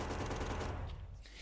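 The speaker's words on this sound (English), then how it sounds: "How about with our submachine gun now?" A short, fast rattle of submachine gun fire in Factorio, a quick burst of shots that fades out within about a second.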